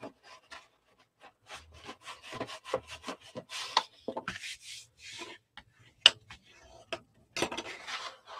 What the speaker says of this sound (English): just pick a score line and just roll with it and burnish